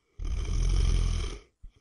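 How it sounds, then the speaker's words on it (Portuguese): A man snores once in a long, loud, rasping inhale, close up, followed by a short breathy sound after a pause. "Você aí, roncando, foi e não me deixa dormir."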